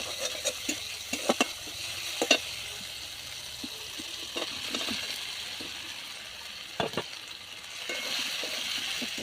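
Parboiled potatoes sizzling in hot oil in a kadai, with scattered clinks and scrapes of a spatula stirring them over a steady close frying hiss.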